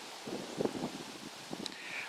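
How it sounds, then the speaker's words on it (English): Steady southwest wind rushing across the microphone in a swamp, with a low, broadband hiss and faint rustling, fairly quiet throughout. "We've got a southwest wind blowing pretty brisk"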